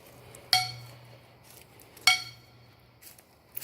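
Two sharp, ringing metallic clinks about a second and a half apart, each decaying slowly, followed by a softer faint clink near the end.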